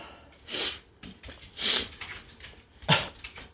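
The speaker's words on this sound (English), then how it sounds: "And now he's over there scratching on the floor like he always does" A dying dog scratches at the floor in a few brief bursts of scraping and rustling, with soft snorting breaths between them, close by and fairly quiet.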